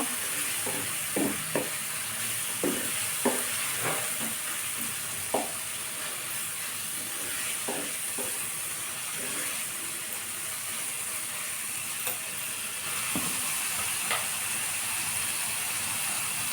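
Chickpeas frying in a pan as turmeric powder is stirred in, a steady sizzle with intermittent clicking scrapes of the spoon against the pan, no voices.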